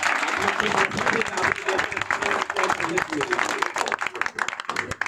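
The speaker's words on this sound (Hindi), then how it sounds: "बाकी सर के लिए एक बार ताली जोर से लगाते हैं।" An audience of students applauds loudly for a teacher at a 10th-class school farewell, dense continuous clapping filling the room, with voices heard under and over the applause.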